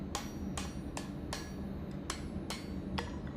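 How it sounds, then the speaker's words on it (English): A hand hammer flattens and straightens Damascus steel in a forging jig: seven sharp metallic strikes land at an even, unhurried pace over a steady background hum. "So I'm going to use a hand hammer just to kind of flatten"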